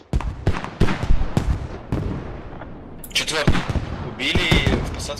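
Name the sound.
creeping artillery barrage in a video game (Squad)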